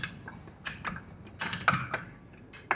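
Nylox bolts being tightened on an outboard motor hydrofoil, a series of small metallic ratcheting clicks and taps at an uneven rhythm, close and fairly quiet.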